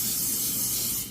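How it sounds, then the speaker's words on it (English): Canola oil sprays from an aerosol can into an air fryer basket in one steady, close, hissing burst that fades at the end. "I'm going to take some spray canola oil."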